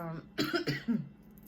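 A short burst of several harsh coughs in quick succession, close and fairly loud, then quiet.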